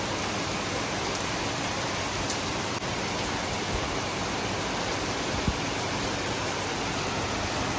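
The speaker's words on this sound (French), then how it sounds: "Je suis sûre il pleut encore plus fort là." Heavy thunderstorm rain pours down in Albania, a dense, unbroken roar of falling water that stays loud and steady throughout, with no voices.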